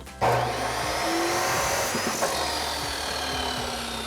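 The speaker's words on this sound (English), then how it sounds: "now we've got our pipe set up in the chop saw. We're gonna cut this out." A chop saw cuts through steel exhaust pipe for a Ford F-150 dual exhaust system, starting with a sharp onset and then holding a steady, close grinding whine for several seconds before easing off.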